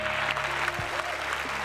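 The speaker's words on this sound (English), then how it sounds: "Let's give him a round of applause." Audience applause in a keynote hall, a steady wash of clapping that stays fairly quiet and even throughout, heard alone.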